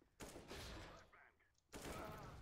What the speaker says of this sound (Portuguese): Espera aí, eu ouvi aqui tiro.